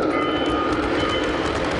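Model train running through a Christmas garden display, a steady continuous rolling rumble at moderate level with no distinct clicks or horn.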